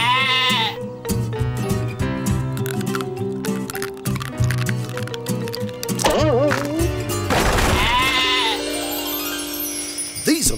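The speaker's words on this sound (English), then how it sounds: "That's Rosie the goat." A cartoon goat bleats in a wobbly, wavering run of calls late in the passage, following a stretch of bright animated-show music and sound effects, loud and close.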